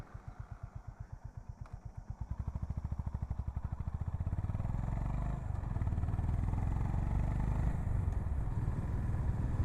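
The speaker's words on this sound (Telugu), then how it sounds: "Let's start the bike." A Honda H'ness CB350 motorcycle starts up and settles into a running thump. Its evenly spaced exhaust pulses build in loudness and speed over the first few seconds, then hold as a steady, close engine beat.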